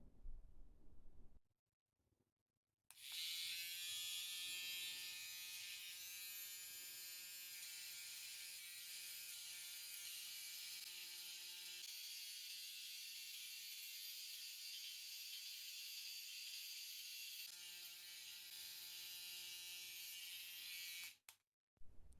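A small Chinese electric hair trimmer, charged by Type-C, runs with a steady high-pitched buzzing whir for about eighteen seconds, switched on and off with brief quiet gaps at either end.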